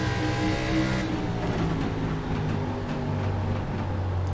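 A short-track race car at Lucas Oil Raceway holds a steady, loud engine drone on throttle, accompanied by broadband roar, with no talk over it.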